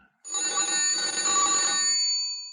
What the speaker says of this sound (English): The telephone rang in the inspector's office at the yard.